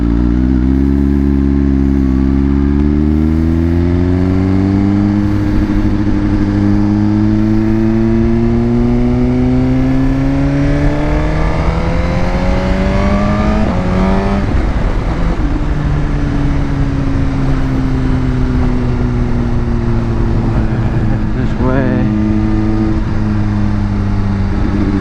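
A motorbike engine revs up close and loud, its pitch climbing in long sweeps, dropping back, then rising again in repeated throttle pulls over a constant, rough engine drone.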